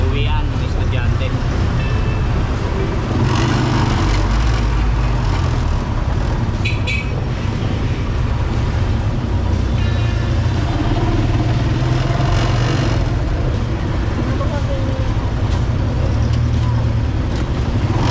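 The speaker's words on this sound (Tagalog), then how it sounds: "Traffic to, rush hour eh." Rush hour road traffic with tricycles and cars, a steady loud roar of engines and passing vehicles with occasional horn-like tones, continuous throughout with no pause.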